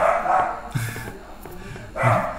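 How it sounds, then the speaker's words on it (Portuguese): A dog barks twice in a short burst, close and fairly loud, with a pause of background room sound between the barks. "Cachorro"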